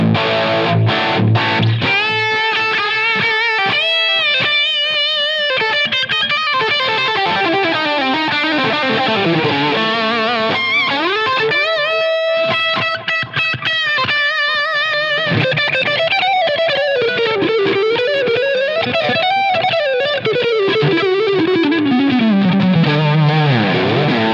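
Electric guitar played through a Line 6 Helix Brit 2204 amp model, a Marshall JCM800-style overdrive, sustaining distorted chords and melodic single-note lines, loud and continuous with no talk.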